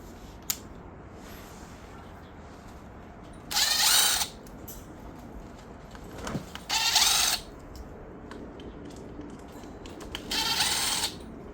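A ratchet removes bolts from the frame of an Infiniti car, heard as three short, loud bursts of rapid clicking at close range over a quiet garage background.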